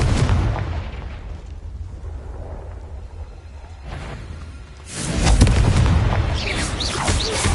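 Fire curse blast in a Harry Potter video game, a heavy boom erupting partway through and rolling on loudly over rumbling game ambience.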